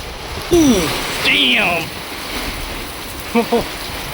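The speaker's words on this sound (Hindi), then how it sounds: "ये अब तक की सबसे तेज बारिश है।" Heavy monsoon-season rain pours down in a steady, broad hiss throughout, with a voice speaking briefly over it.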